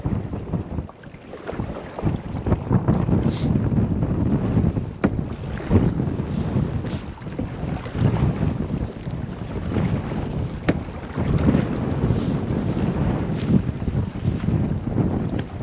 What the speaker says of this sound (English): There's the wind pushing us.